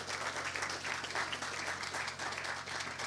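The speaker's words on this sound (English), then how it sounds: "Can we give them a round of applause?" An audience at a gala claps in sustained, dense applause filling the room, steady and continuous from start to end over a low hum.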